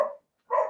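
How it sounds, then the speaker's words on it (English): Two loud, close dog barks ring out inside a house, each a short burst separated by a brief silent pause. "dogs running through the house"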